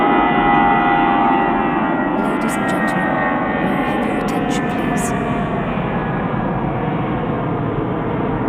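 Airliner on the shuttle service to Heathrow at Manchester Airport, a steady loud roar of engine noise held throughout, in icy conditions, with faint voices present.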